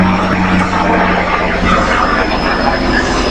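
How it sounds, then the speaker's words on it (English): Loud, steady engine roar of a military helicopter flying low over treetops near a mountain home, close and continuous without a break. "is a military helicopter flying about 50 feet above the treetops."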